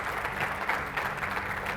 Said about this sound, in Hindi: मैं चाहता हूं एक बार मोदी जी के सम्मान में तालियां बजा दी जाए